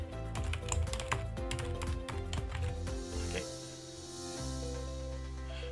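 Quick bursts of close clicking keystrokes on a computer keyboard as a password is typed, lasting a few seconds before giving way to a soft steady tone.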